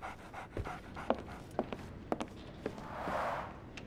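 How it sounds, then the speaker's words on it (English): A dog pants rapidly and steadily in the Sherlock Holmes: The Awakened video game, with soft footsteps and light taps scattered around it. The panting swells toward the end. "So, Barnes has a dog now."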